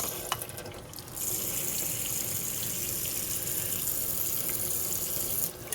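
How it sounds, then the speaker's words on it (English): Water pours steadily from a water purifier tap into a kitchen sink, a close, even rush that starts after a brief click and runs without a break before cutting off at the end. "I'm going to turn on my water purifier on my sink."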